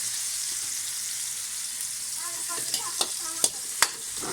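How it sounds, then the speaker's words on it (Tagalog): Tomatoes sauté in a pan with a steady hiss of sizzling, joined near the end by a few sharp clinks and scrapes of stirring. "Igisa po natin yung kamatis."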